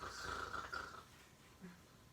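A man snores at home with a low rasping rumble, loud at first and then fading, followed by a faint short snort.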